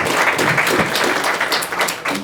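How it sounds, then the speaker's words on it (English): Audience applause at an entrepreneurship Q&A event, a dense burst of many hands clapping, close and fairly loud, running steadily for a couple of seconds. "Everybody give them a round of applause"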